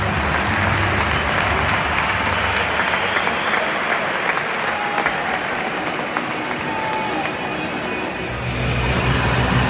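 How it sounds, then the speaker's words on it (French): A stadium crowd at a Basque football derby between Osasuna and Real Sociedad applauds as the players enter, a steady, loud wash of clapping and crowd noise that holds throughout. "il y avait des applaudissements et tout"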